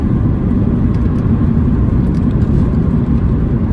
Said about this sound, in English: There is a little bit of tyre roar, you do hear that, and a bit of wind noise